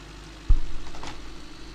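Pickup truck engine in the Pickup Simulator game runs at a steady idle-like drone, with a sudden louder surge partway through that holds on as the motor keeps running up close.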